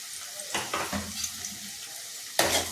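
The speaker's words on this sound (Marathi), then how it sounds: "आता आपण कढीपत्ता टाकू" Curry leaves dropped into hot oil for a Maharashtrian masoor dal amti, giving a soft, steady sizzle with a few sharper crackling bursts and a louder burst near the end.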